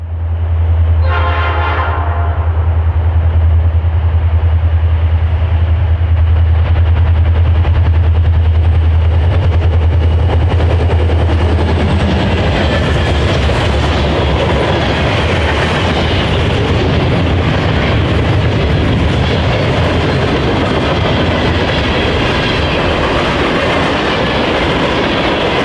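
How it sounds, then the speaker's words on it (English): A Norfolk Southern SD40-2 diesel locomotive, running alone at the head of a local freight train, passes loudly and close by. A short horn blast opens, then a steady engine roar gives way to the rumbling, clattering wagons. "SD40-2, number 3219, as the sole unit in charge of today's train."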